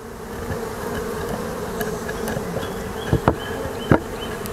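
A swarm of bees buzzes steadily and close around a hive, a dense continuous drone with a few sharp knocks and clunks near the end.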